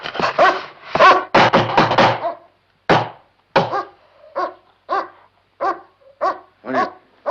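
A dog barks loudly and close by in a quick cluster, then lets out a steady series of shorter yelps and whimpers.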